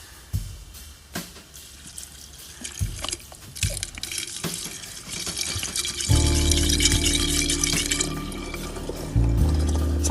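Water poured into a guppy fish bowl in a home aquarium setup, a steady close trickle and splash that grows fuller and louder partway through, with scattered clinks and drips and no voices.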